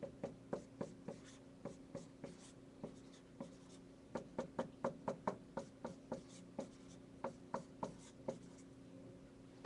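A pen scratches out music notation on paper in quick, close, rhythmic strokes, with short bursts and brief pauses throughout and no talking.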